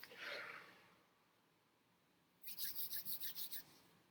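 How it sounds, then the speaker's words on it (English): Hands rubbing together close up: a soft swishing rub at first, then after a pause a quick run of about eight brisk, even back-and-forth strokes, quiet and with no one talking. "We just rub our hands together"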